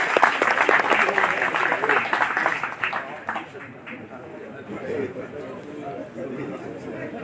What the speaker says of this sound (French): Je crois qu'il faut l'applaudir très fort parce que c'est une belle performance.